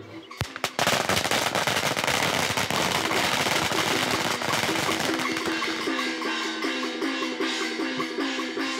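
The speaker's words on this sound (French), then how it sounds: "En Chine, des pétards accompagnent les funérailles pour chasser les mauvais esprits." Firecrackers set off at a Chinese funeral: a loud, dense, unbroken barrage of rapid crackling bangs that runs for about eight seconds and gradually thins into sharper, separate pops.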